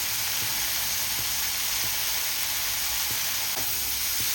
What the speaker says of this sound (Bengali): এটা বেশ ভালো করে ভেজে তারপরে আমি আসছি